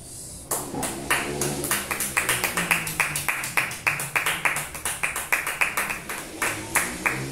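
Rhythmic clapping fills a church in praise of Jesus, the congregation beating out fast, regular claps in time over a sustained tonal hum, loud and steady throughout.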